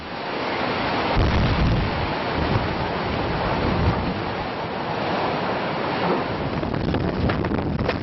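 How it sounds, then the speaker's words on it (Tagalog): Strong, roaring typhoon wind in Samar buffets the microphone in a continuous loud rush, with gusts swelling and fading, like a storm battering everything nearby. "Di nagtagal, tumindi ang pagbayo ng hangin."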